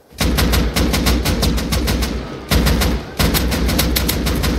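Bursts of rapid automatic gunfire in the survival video game Rust, a weapon fitted with a muzzle brake, loud and close, firing in several quick volleys separated by brief pauses.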